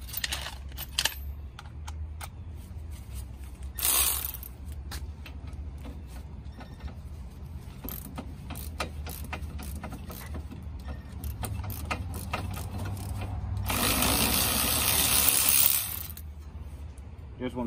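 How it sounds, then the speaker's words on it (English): A Milwaukee power tool loosens a brake caliper bolt on a Honda. A short whir comes early, then a loud sustained buzzing burst of about two seconds, over quiet clicks and workshop noise. "So now we're going to use the Milwaukee to loosen it up."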